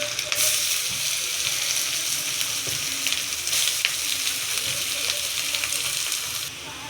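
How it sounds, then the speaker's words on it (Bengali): Onion added to hot oil with ginger and garlic in a wok gives a constant loud sizzle, with brief scraping stirs and clinks scattered through it. "তারপর আমরা পেঁয়াজটা দিয়ে দেব।"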